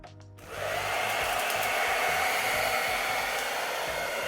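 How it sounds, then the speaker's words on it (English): A hair dryer on hot switches on and blows steadily with a loud, constant whooshing roar close by. "the trick to getting this to dry sooner rather than later, right, is a blow dryer"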